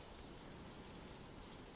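Steady rain falls as an audio drama sound effect, an even, continuous hiss of drops on hard surfaces, soft and unbroken with no voices.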